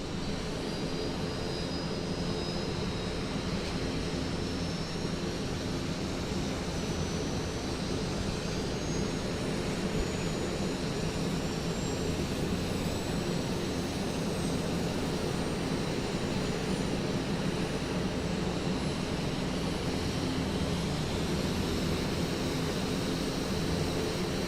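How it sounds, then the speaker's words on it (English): Engine 1 of a Piaggio P180 Avanti II turboprop starts up in Microsoft Flight Simulator 2024. A steady, loud turbine rumble carries a thin whine that climbs slowly in pitch as the engine spools up. "Let's start engine 1."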